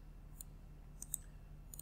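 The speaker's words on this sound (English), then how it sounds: "we click on it and we copy this" Several faint, crisp mouse clicks on a computer icon, spaced irregularly over a quiet background hum.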